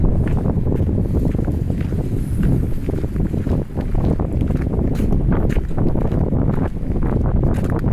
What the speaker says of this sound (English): I'm walking right into the wind right now.